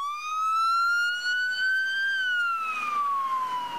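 An ambulance siren wails loudly and steadily, its pitch sweeping up and then gliding back down, with no voices over it.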